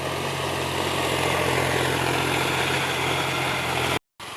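A John Deere 5045D tractor engine plowing a rain-soaked field drones steadily with a deep low rumble and a constant hum, close and unchanging, broken only by a brief cut near the end.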